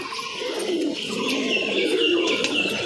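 Giribaj pigeons coo softly and repeatedly in a close, gentle warbling murmur, with faint chirps mixed in and no voices.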